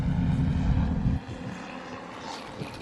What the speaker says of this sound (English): There's a plane going over me.